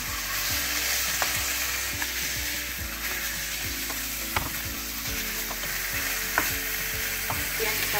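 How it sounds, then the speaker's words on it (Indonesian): Chicken being stirred and fried in a pan for a spicy Indonesian chicken stew with chili powder, with a steady loud sizzle and repeated scraping strokes of the spoon against the pan throughout, and no talk. "Kita aduk lagi sampai berubah warna"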